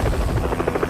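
A helicopter in an action film, its rotor thumping in a fast steady chop with a dense engine buzz, loud and close throughout the short moment.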